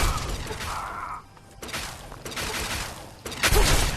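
Rapid gunfire and energy-weapon shots from a battle in the video game Fallout 3, busy bursts with mechanical clatter and a louder volley near the end.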